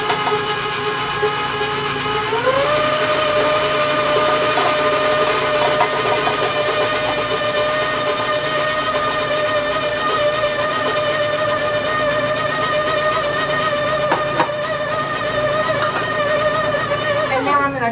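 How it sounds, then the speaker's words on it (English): Electric mixer running on low speed through cookie dough, a steady whirring motor drone with a faint pitch shift early on, continuous and fairly close. "I'm going to warn you about the mixer. I'm going to be on low because I don't want the flour to go all over the kitchen"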